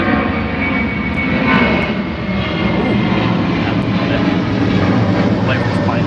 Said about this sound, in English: I'll wait for his plane to go over.